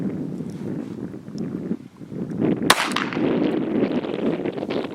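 A single sharp handgun shot at an outdoor shooting range, fired on command and loud and close, with wind rumble and open-air ambience before and after the report.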